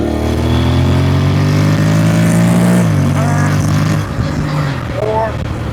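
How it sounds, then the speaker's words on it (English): A Honda engine in manual mode drones loudly, then its pitch drops as it downshifts, while a voice talks over it. "the downshift sounds sick"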